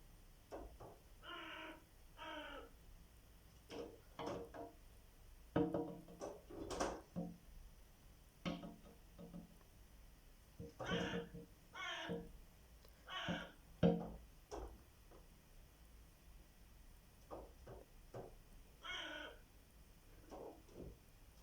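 A crow taps and pecks at a window, producing sporadic sharp knocks and clicks in irregular bursts, close and fairly quiet, mixed with a few short caw-like calls.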